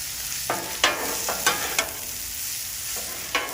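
Steak seasoned with kosher salt, black pepper and garlic powder is tossed on a Blackstone griddle for Philly cheesesteaks, with a steady sizzle broken by several sharp metal spatula scrapes and taps, close up and without talk.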